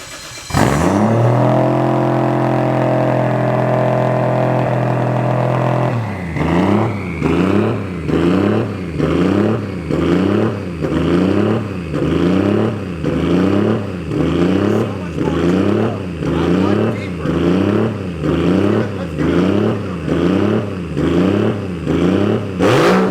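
A drift car fitted with a Tomei exhaust idles with a steady loud drone for a few seconds, then revs hard in a long run of rhythmic rising and falling pulls, close and dominant with no talk.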